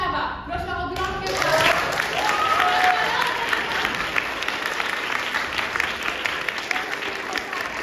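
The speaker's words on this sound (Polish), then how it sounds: "Proszę o brawa, proszę o gromkę." Audience applause after a student school play, clapping builds quickly and stays steady and fairly quiet, with brief voices heard at the start as it begins.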